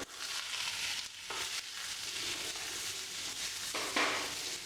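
Onions frying in oil with urad dal and asafoetida for Tamil onion chutney, a steady close broadband sizzle with a few brief stirring scrapes and a sharper crackle near the end, no voices.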